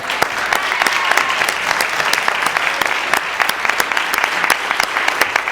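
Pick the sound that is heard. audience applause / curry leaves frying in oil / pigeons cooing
audience applause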